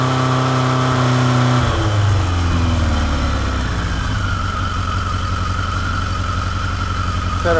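A motorcycle engine revving with its choke set about halfway, a continuous loud close drone whose pitch rises and falls as the revs shift, with no talking.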